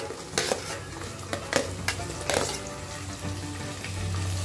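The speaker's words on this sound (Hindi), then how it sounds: "अब हम प्याज ऐड कर देंगे" Onions tossed into a pan of dal tempering with hing and stirred, a frying sizzle broken by several distinct scraping stir strokes and clatters, fairly close.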